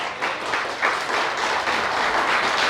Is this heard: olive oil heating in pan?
no